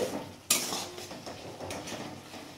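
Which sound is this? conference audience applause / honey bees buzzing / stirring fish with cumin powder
stirring fish with cumin powder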